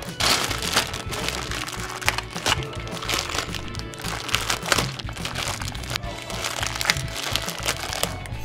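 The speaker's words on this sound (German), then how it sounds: "wir reißen jetzt hier erstmal alle Tüten auf" Plastic bags of Playmobil toy parts being torn open and handled, a dense, continuous crinkling and crackling of thin plastic held close and fairly loud for the whole stretch, with no pauses.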